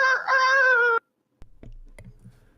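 A rooster crows loud and close for about a second, its harmonic call rising then held, followed by a pause and a few scattered clicks and low thumps.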